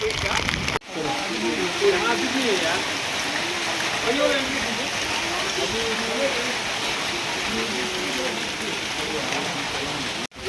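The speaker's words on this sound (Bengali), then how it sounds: "ওই দেখো ব্রিজ, ব্রিজেও দাঁড়ানো যাচ্ছে না, এত বৃষ্টি হচ্ছে।" Heavy rain pours at the sky view glass bridge viewpoint in Wayanad, a dense, steady roar of rainfall with people talking over it throughout.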